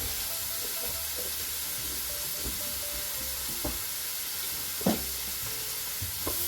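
Minced garlic is stirred into a roast in a Ninja Foodi XL, a steady sizzle and hiss under soft scraping, with a few short clatters of the utensil against the pot.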